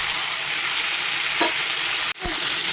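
Ground spice paste frying with ridge gourd and potatoes for a Bengali fish curry, a loud continuous sizzle close by, broken by a sharp stirring scrape near the end.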